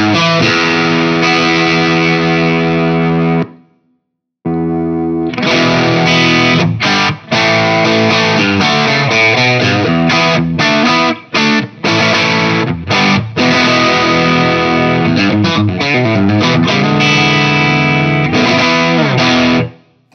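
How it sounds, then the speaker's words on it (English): Electric guitar played through a Dr Z amp on its low input, giving a loud, driven, slightly cleaned-up tone; a brief strum, a short pause, then a continuous run of chords and riffs with quick stops. "just switch from the high input down to the low input, and you'll hear the reduction in gain"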